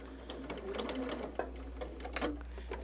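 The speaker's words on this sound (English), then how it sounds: "I'm just going to start stitching those pieces on the edge" A sewing machine stitches quilt block pieces for a Thanksgiving turkey block, running in a steady close whir with faint clicking for about three seconds, a voice speaking softly over it.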